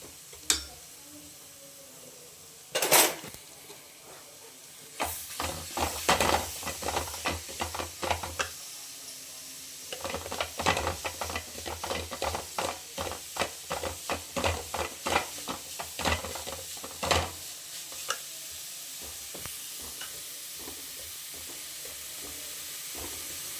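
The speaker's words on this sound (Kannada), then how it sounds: "ಈ ಕಡೆ ರವೆ ಹುರಿತಾ ಇದ್ದೀನಿ" Semolina (rava) roasting in a pan for carrot rava laddu, stirred with a spoon: a long run of quick scraping strokes and light knocks against the pan over a soft dry sizzle, after one sharp clatter near the start.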